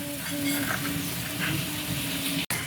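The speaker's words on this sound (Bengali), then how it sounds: "এখন এটাকে কিছুক্ষণ কষাবো।" Beef sizzles and fries steadily with ginger garlic paste in a large pot, a continuous bubbling crackle with a few faint clinks of stirring and a brief cut near the end.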